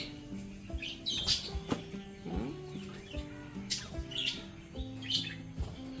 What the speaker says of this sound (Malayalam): കിളി ഇറങ്ങിയിട്ടുണ്ട് കണ്ടോ